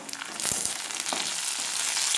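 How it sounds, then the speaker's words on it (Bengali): Lentil dumplings (bori) drop into hot oil already holding browned onion and garlic, a few soft thuds giving way to a sudden swell of loud, crackling sizzle that holds steady and close, with no talking. "এই মুহূর্তে আমি বড়িগুলো ছেড়ে দিচ্ছি।"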